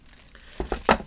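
Plastic bag corners crinkle in a few short, sharp rustles near the end, close and fairly loud with a quiet start and no voices.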